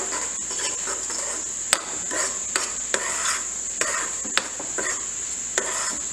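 A spoon stirs an apple and lemon juice mixture in a pan, with soft scraping under a steady high hiss and sharp periodic taps against the pan's metal.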